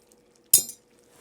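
A brief metal spoon clink and scrape against a pan of chicken scarpariello sauce, one sharp burst then quiet, close and moderately loud.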